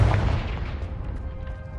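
One Confringo fire-spell blast in Hogwarts Legacy: a strong, booming hit at the start that fades into a rumbling tail, with a faint ringing tone left behind.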